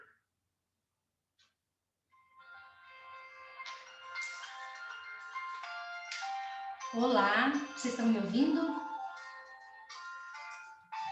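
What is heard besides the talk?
mobile phone ringing in a classroom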